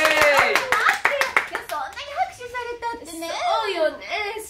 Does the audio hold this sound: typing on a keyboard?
no